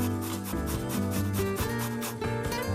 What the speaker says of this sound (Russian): Помимо лука и риса там еще будет морковь, которую мы сейчас натрем на мелкой терке.